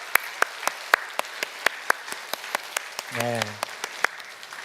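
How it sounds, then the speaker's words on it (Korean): A church congregation claps steadily at a Sunday service to welcome back a member after a long illness, sharp evenly spaced claps ringing through the room while someone briefly speaks partway through. "우리 박수로 환영합시다."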